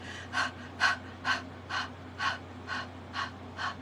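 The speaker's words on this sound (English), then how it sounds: "let's do a panting breath for a little bit" Quick, even panting breaths repeat about twice per second, airy and close, with no talking.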